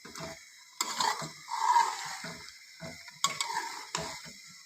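Pigeon meat being stirred in a kadhai over a hot flame, with a spoon scraping the pan in several separate strokes over a soft, steady sizzle, close and fairly quiet with no talking.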